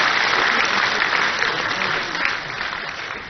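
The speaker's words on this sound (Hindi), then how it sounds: "जरा जोरदार तालियों के साथ में हम अभिनंदन और स्वागत करें" Loud, sustained applause from an audience welcoming the chief minister at a research scholars' gathering in Bhopal, a dense wash of clapping that eases slightly toward the end.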